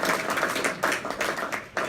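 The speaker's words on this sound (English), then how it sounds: "I actually think you deserve a bit of a round of applause" Brief burst of audience clapping at a mayoral business breakfast, a roomful of hands applauding at moderate volume for under two seconds.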